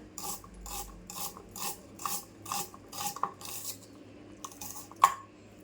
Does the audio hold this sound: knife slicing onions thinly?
yes